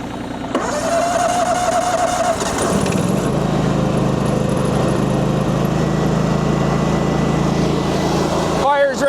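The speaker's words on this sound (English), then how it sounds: "Honda engines always need a bit of choke." A Honda engine on choke cranks and fires, then settles into a steady, loud running drone with a light whine above it.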